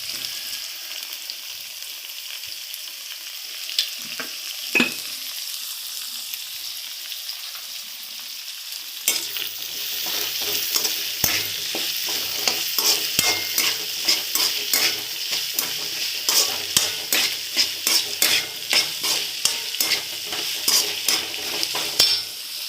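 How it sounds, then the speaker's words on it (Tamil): Onions sauté in a hot pan with garlic and salt for a Tamil fenugreek kuzhambu. A steady sizzle runs throughout, and after a quiet stretch a spoon starts stirring with repeated scraping and clinking against the pan. "வெங்காயம் நல்லா வதங்கிடுச்சு"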